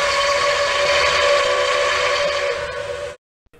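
A steam engine's whistle blows long and loud, a steady multi-toned shriek held for about three seconds before cutting off abruptly into silence.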